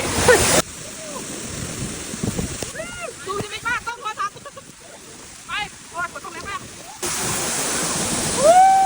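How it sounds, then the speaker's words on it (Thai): A waterfall at the ninth tier of a long forest trail, in rain, gives a steady, loud broadband rush, while voices and chirping calls rise and fall over it. "น้ำตกสวยมาก"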